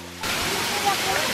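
A real waterfall pours in a steady, dense broadband rush that begins abruptly and stays loud and even throughout, with no talk heard over it.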